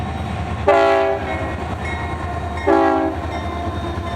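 A freight train led by an AC6000 rebuild and an SD70M locomotive sounds two loud, sustained horn blasts about two seconds apart over a steady rumble of rolling cars.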